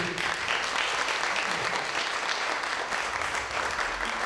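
An audience at a women's slam poetry competition at Centre Nelson Mandela applauds the performers with dense, continuous clapping from many people that stays even and fairly close throughout.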